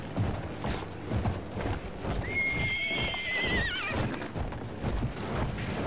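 A horse gallops in the shooter Battlefield 1, hooves drumming in a fast steady rhythm close by, and a loud whinny rises over it midway through.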